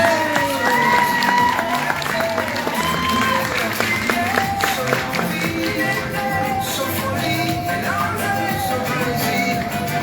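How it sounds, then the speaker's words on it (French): Audience applause and cheering from a crowd at a beauty pageant, steady and moderately loud, with music playing underneath. "Laetitia Tribunal, sous vos applaudissements, chers publics."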